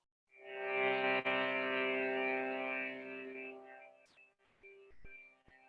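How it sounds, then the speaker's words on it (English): A wooden shruti box, a bellows-driven drone instrument, swells in and holds a steady, rich reedy chord for several seconds, then thins out into a few short, quieter sustained tones. "the instrument called Shruti box"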